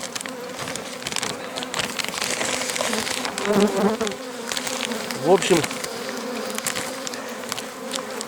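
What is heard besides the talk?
honey bees buzzing at hive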